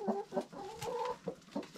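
Chickens, including white ones, cluck in short, close bursts with uneven pauses between them while feeding on scraps, with no talking.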